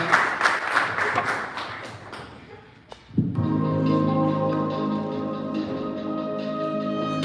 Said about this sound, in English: A round of applause for her, ladies and gentlemen,